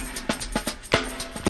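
Sampled funk drum break: kick and snare hits in a loose, syncopated groove, played alone at moderate level for a short bar.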